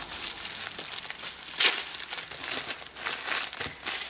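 Small pouches of beauty products being unwrapped, close crinkling and rustling of packaging with a few sharper crackles, no talk.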